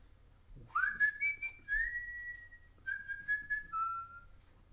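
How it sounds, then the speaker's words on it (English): Someone whistles a slow, simple tune nearby, with sliding pitches and held notes in a quiet room. "I like to whistle."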